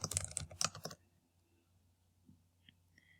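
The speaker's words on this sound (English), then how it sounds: "type in a subject." A quick burst of typing on a computer keyboard, dense close clicks for about a second, then near silence with faint small noises.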